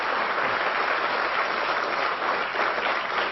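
Studio audience at a television talk show interview breaking into applause, a dense sustained wash of clapping at steady loudness with no voices over it.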